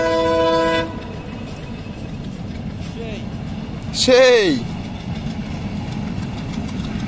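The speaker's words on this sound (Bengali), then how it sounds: "এই তো দেখুন ট্রেন যাচ্ছে, বাট অনেক ছোট ট্রেন" A small train rolls past with a steady rumble, sounding a short horn toward the end; a brief word is spoken early on.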